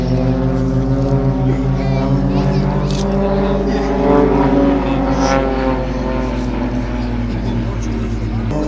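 Carbon fibre aerobatic aircraft with over 300 horsepower in the nose, its engine a loud, steady droning roar sustained throughout at an air and car show, with a voice talking over it.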